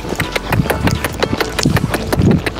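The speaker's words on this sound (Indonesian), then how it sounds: "Tadi kuda salah canter" A horse canters on firm ground, its hooves striking in a quick, uneven three-beat rhythm of sharp clops, close and fairly loud, with a low engine hum in the background.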